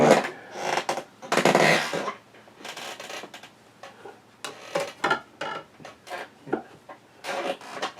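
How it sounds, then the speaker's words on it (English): A vinyl record of a Gremlins book-and-audio read-along is handled and flipped over on a turntable, giving a string of close, irregular clattering and rustling knocks with short pauses between them. "let me flip the record over"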